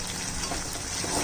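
Ghee spooned into a hot frying pan of Bengali curry, a steady close sizzle and bubbling fry that swells slightly at the end, with no voices.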